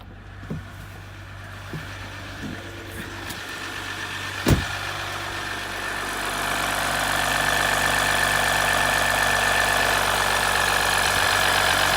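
A Ram EcoDiesel pickup fitted with an aftermarket intake turns over with a sharp catch, then settles into a steady low idle rumble with a slight rising hum, heard close with no talk.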